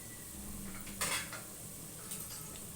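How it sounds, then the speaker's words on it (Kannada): Ginger garlic paste being stirred into golden fried onions in a pan for Arabian-style chicken biryani, with a couple of clinking scrapes of a spoon against the pot over a faint background hiss. "ಈ ಟೈಮಲ್ಲಿ ನಾನು ಶುಂಠಿ ಬೆಳ್ಳುಳ್ಳಿ ಪೇಸ್ಟ್"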